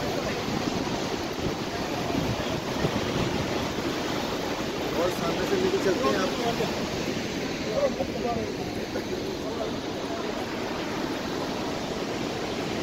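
Niagara Falls roars as a steady, dense wash of falling water and rising spray, close and continuous, with someone talking over it.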